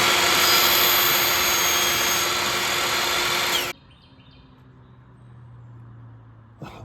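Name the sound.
power saw cutting a thin slice of wood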